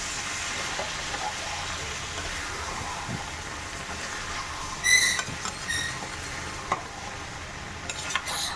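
Rui fish curry with teasel gourd and potatoes sautéing in a pan, giving a faint, steady sizzle with occasional stirring scrapes and clinks of a spatula, and no talking.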